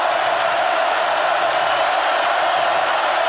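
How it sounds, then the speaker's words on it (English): Stadium crowd at a 2007 Auburn versus Florida college football game, a steady, loud roar of cheering with no breaks and no announcer talk, wash-like and broad across the whole stretch. "Crowd on its feet."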